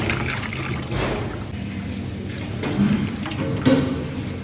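Milk pours into flour for wedding-style parotta dough, a steady liquid trickle with soft thumps, close and moderately loud.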